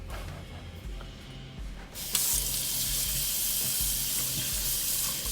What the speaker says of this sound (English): Give me a second to wash my hands.